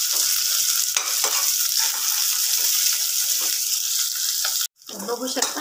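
Onions and green chilies frying in a pan with garlic for a cashew curry, a steady hot sizzle broken by repeated scrapes of stirring, then a brief silence and a louder burst of sizzling.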